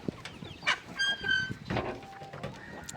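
Hens on a farm cluck and squawk in short, overlapping bursts as a door opens, fairly close but soft, with a few sharper calls standing out.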